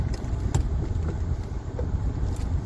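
A 2020 Hyundai Creta base model with the 1.5 diesel engine accelerates on the road, its low engine rumble steady and close, with faint cabin noise and no talk.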